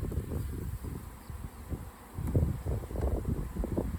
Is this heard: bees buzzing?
yes